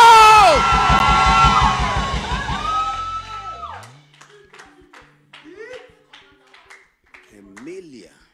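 A church congregation at an all-night prophetic service in London lets out a loud sustained scream and cheer that fades into scattered shouts, whoops and applause.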